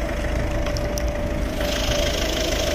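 A Ford Focus 1.6 TDCi diesel engine idles steadily with an even, unbroken hum and no one speaking.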